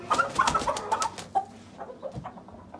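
Roosters and chicks of various breeds make a busy run of short clucks and high peeping chirps, loudest in the first second and then trailing off into scattered calls.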